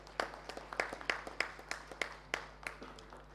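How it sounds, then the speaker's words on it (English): Applause for a presenter at a plenary conference session, a modest, faint scattering of claps with distinct separate hits rather than a dense roar. "A good round of applause for him."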